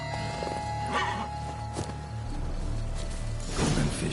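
A horse in The Witcher 3 gives a short neigh over clip-clopping hooves, moderately quiet, with a swish of movement at the end.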